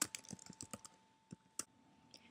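Quick bursts of key clicks on a computer keyboard, a rapid cluster of taps followed by a few scattered strokes, close and fairly quiet in a still room.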